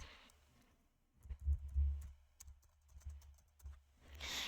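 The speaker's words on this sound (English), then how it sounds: "go ahead in the Windows search bar and type Task Manager" Typing on a computer keyboard on a Windows PC: a short burst of close key clicks and taps, irregular in rhythm, with a quieter pause between bursts and no voices.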